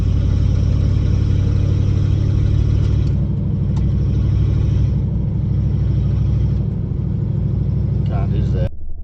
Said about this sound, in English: Look at this old car coming here.